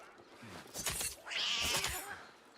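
A cat in the video game Assassin's Creed Mirage lets out a short, strained yowl and meow, rising sharply near the middle and fading out quickly, fairly close and alone.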